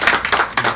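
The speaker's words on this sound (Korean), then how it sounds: "큰 박수로 모시겠습니다." Applause welcoming a speaker at a morning forum lecture: a few sharp, close hand claps in quick succession, brief and loud.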